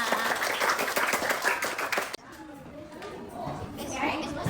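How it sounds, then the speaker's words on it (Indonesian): Schoolchildren in a primary classroom clap their hands together after singing a national song, a quick burst of claps for about two seconds mixed with voices, then quieter room noise and chatter. "Oke, tepuk tangan semuanya."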